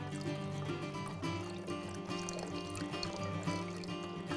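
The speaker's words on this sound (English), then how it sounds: "Slowly pour this in and let it incorporate in with the cream." Chicken stock is poured slowly into heavy cream in a home kitchen, giving a steady, continuous liquid pour with a soft trickle over a constant low background hum.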